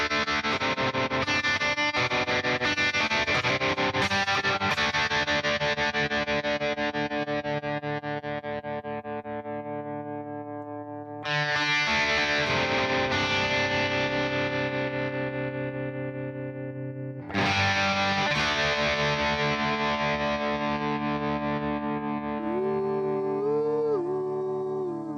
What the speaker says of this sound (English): We do have a tremolo on this amp.